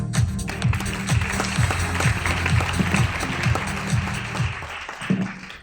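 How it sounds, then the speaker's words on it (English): Audience applause welcomes Professor Dr. Mike Chan onto the stage at the ISSCA 2025 Global Summit in Cancun: a steady, dense wash of clapping that carries for several seconds over a rhythmic musical bed before tapering at the end. "Let's give a warm round of applause for Professor Dr. Mike Chan"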